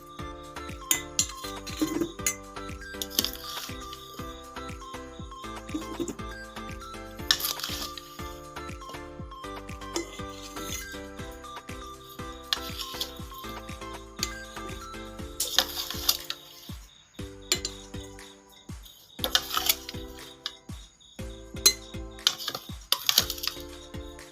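Cooled jolphai pickle being spooned into glass bottles, with scattered light clinks and taps of utensil against glass, close and fairly quiet, alongside soft musical tones in the background.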